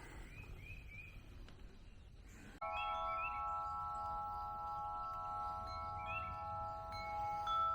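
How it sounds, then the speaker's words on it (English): Sustained, ringing metallic tones hang over a steady outdoor background, with a few bird chirps scattered through; the chime rings continuously after a sudden start. "Our peaceful wind chime,"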